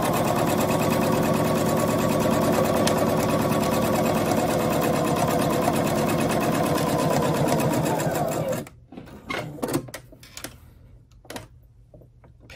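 A sewing machine backstitches along the long edge of fabric for a Halloween mask, whirring loud and continuous for about eight seconds before stopping abruptly, followed by faint handling clicks and rustles.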